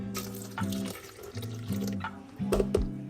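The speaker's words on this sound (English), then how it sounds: "and then I'm gonna add regular water" Water pours into a Philips soup maker while making carrot ginger and yellow lentil soup, a close splashing gurgle in three uneven bursts with short pauses between.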